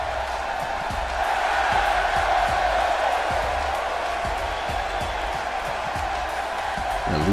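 Arena crowd in the WWE 2K17 wrestling video game cheering loudly and continuously, a dense roar of voices with whoops and repeated rhythmic thumps throughout.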